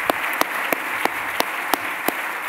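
Audience applause at an economics conference closing session, a steady wash of many hands clapping with a few sharper individual claps standing out, moderately loud and without talk.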